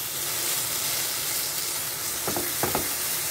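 A steady loud sizzle of the potol dorma filling being stir-fried in a pan, with a couple of brief scrapes of the spatula near the end.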